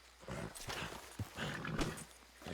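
Horse hooves from a horse in the video game Red Dead Redemption 2, a few soft thuds and clip-clops under game ambience, brief and moderately close.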